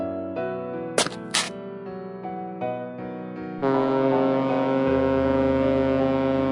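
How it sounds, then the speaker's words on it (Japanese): Deep, sustained horn blasts layered in harmonic tones, a swelling chord that grows louder partway through, with two sharp clicks early on. "沖では日本に戻る引き上げ船が何隻も停泊し、出港の汽笛を鳴らしていた"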